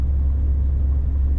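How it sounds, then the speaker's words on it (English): A 1989 Chevy G20 van due for rear wheel bearing work drives along with a loud, steady low rumble of engine and road noise heard from inside, with no clear change in pitch. "I'm taking the van back to the shop to get the rear wheel bearings done."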